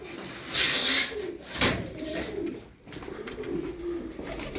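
Several pigeons coo in a loft, soft throaty calls repeating close by, with fluttering, scuffing and a couple of sharp knocks in between.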